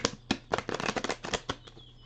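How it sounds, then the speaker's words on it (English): Oracle cards shuffled by hand, a quick run of papery riffling slaps and flutters, close and fairly loud, with no talking. "Pray one day I'll be able to shuffle cards like a blackjack pro without bending them in half."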